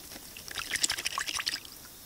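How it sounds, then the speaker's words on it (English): Spring water wells up out of the ground beneath a hut in alpine country, a soft, bubbling trickle with small splashes that swells briefly and then fades. "water comes up out of the ground under my hut"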